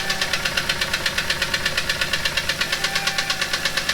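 Jeep 4.0L straight-six engine running with no oil pan, producing a loud, steady idle with a rapid, even knocking pulse and mechanical rattle close up.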